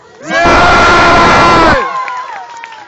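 A crowd at an outdoor mosque kermes in Gelsenkirchen-Hassel bursts into loud cheering and whooping with applause, swelling for over a second before fading into scattered voices.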